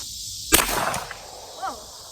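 Winchester 1873 rifle in .44-40 firing a 225-grain bullet into a cantaloupe, one sharp crack followed by a brief splattering burst and a faint trailing sound.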